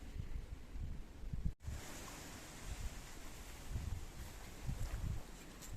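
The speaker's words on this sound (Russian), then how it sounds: "Ветер не умолкает. Дует как ненормальный." A strong autumn wind blows outdoors at night, giving a steady faint rushing roar with soft gusting swells and one brief dropout.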